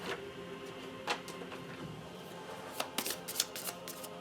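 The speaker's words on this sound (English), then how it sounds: "We actually get a good shuffle going on in here." A deck of cards being shuffled at the table during a Kingdom Death Monster board game session: a series of crisp, papery riffle bursts, fairly close, each separate burst clattering in quick succession with no talk over them.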